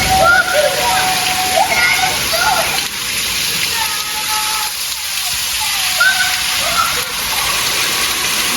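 A loud, steady wash of heavy rain and rushing floodwater fills a thunderstorm in New Jersey with very strong winds, dense and constant throughout.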